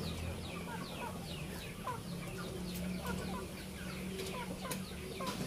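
Indio Gigante chickens cluck continuously nearby in short, overlapping calls over a steady farmyard hum, with occasional sharper squawks rising above the flock.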